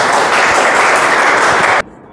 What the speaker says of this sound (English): Mr. Jitesh Satnami, please a round of applause.